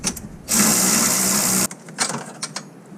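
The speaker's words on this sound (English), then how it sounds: "Now I should be able to get it with my ratchet." A ratchet spins a 21mm nut on the front control arm of a BMW F8X M3/M4 during a suspension overhaul, one steady continuous whirring burst of about a second, close and loud, followed by lighter clicks and handling noise.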